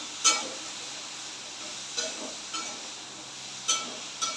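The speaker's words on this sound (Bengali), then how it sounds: "এবার একটু ভাজা ভাজা করে নেবো" Vegetables, including carrot, frying in a pan for shrimp pasta, giving a quiet steady hiss with a few sharp clinks of a spoon or pan scattered through.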